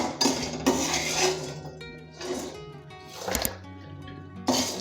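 Roasted makhana (fox nuts) lifted out of hot oil with a metal utensil, repeated clinks and scrapes against the pan in several bursts with faint sizzling between them.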